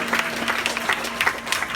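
Brief, patchy clapping from an audience at a Moth storytelling GrandSLAM show in a Los Angeles music venue, scattered hand claps over a low hum.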